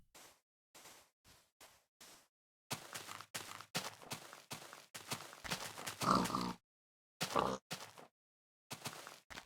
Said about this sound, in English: There's a bunch of pigs.